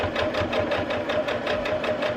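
A sewing machine stitching a folded star potholder, a fast, even mechanical whir with rapid rhythmic needle pulses, loud and close.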